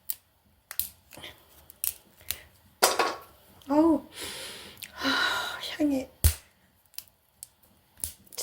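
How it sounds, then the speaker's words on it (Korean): Scissors snipping spicebush (bimok tree) branches outdoors, a series of short sharp clicks and snips spaced through the stretch, close by, with someone speaking in between. "너무 큰 거는 안 될 것 같아가지고 가위로 자르고 있어요"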